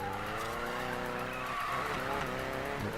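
A 1963 VW Beetle drifts in a racing video game, its tires squealing in a long continuous skid over a steady engine drone, loud and close throughout.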